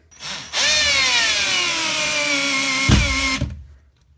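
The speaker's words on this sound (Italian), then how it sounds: "semplicemente proverò ad avvitare prima una e poi l'altra. Questo è da 12 volt," A Parkside PBHA 12 A1 12 V cordless impact drill whirs loudly and steadily while driving a screw, rising briefly with a thud near the end before stopping abruptly.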